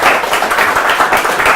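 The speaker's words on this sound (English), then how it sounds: "Round of applause for awesome stories" Audience applause at a game jam horror-stories talk, a loud, dense wash of many hands clapping together throughout the brief moment, with no voices.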